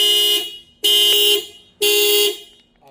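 A Subaru hybrid's car alarm sounds in three loud, evenly spaced horn blasts, each about half a second long with short gaps between, close and clear.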